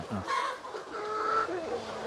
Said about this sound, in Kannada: ಇವಾಗ ಮೊಟ್ಟೆಗೋಸ್ಕರ ಸಾಕಿರುವಂಥ ಕೋಳಿಗಳು